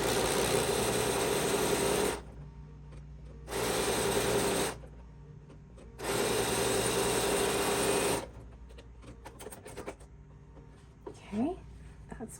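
Close sewing machine with a quarter-inch foot sews down a pillow border made from quilt blocks, running in three loud bursts separated by brief stops, then fading into quieter handling sounds.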